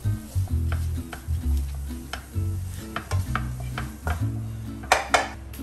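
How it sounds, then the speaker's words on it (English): Egg bhurji with spices being stirred in a pan over a low flame: a spatula scrapes and clacks against the metal in an irregular rhythm, close and clear over a soft sizzle, with no talk. "just mix it on low flame"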